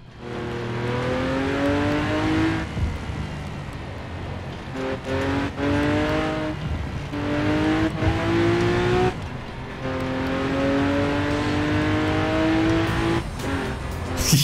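Damaged Lamborghini Aventador in Forza Horizon, its engine revving loudly in repeated rising pulls with abrupt cuts between gear changes, close and alone with no talk.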